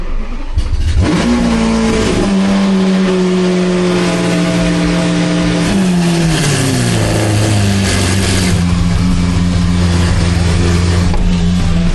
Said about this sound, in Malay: Nak start kereta Lamborghini senang je, tak pakai kunci.